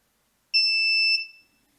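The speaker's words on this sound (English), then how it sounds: "so that's the active buzzer" A single steady high-pitched beep from an active buzzer on 5 volts, wired to an Arduino, sounds for under a second, close and clear, then cuts off into silence.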